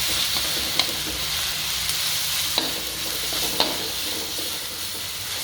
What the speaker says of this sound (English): stir fry until they are no longer that raw smelling garlic and ginger paste